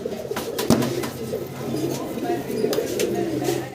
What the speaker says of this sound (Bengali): দর্শক আমরা একজোড়া আমেরিকান লাক্ষা দেখতে পারতেছি অনেক বড় সাইজের